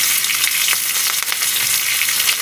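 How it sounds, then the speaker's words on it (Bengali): A rohu fish head frying in hot oil, giving a loud, dense sizzle with crackling spits, close and continuous throughout, with no voices. "মাথাটা ভালো করে ভেজে নিতে হবে লাল করে"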